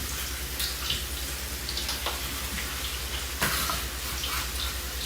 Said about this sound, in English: Grease is starting to get hot. I'm gonna put the potatoes first